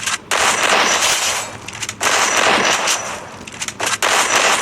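Rapid bursts of shotgun fire in a mobile shooter game, loud and close, with three dense volleys separated by brief gaps.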